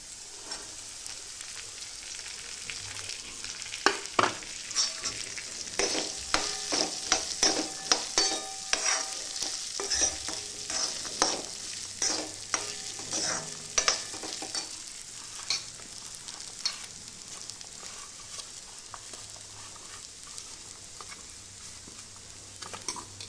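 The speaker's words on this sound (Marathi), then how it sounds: "आता हा साबुदाणा तिथे टाकला होता तो त्यात टाकते आता।" Sabudana is stirred into fried peanuts, potato and green chili in a pan for khichdi, producing a long run of scraping, rattling spatula strokes over a soft low sizzle, busiest in the middle then easing off.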